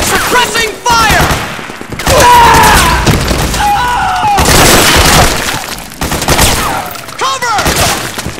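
Rapid gunfire and explosions from Metal Gear Solid 4, loud bursts of automatic fire under shouted soldier voices, with booming impacts layered throughout.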